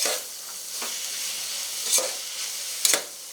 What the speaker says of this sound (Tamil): ஸோ நல்லா வந்து வதக்கி விட்டுக்கோங்க அந்த எண்ணெயிலேயே